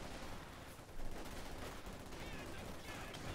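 Gunfire in a Company of Heroes 2 battle, rattling bursts of rifle and machine-gun fire with scattered shots from conscript and assault-rifle troops, dense and continuous at low level.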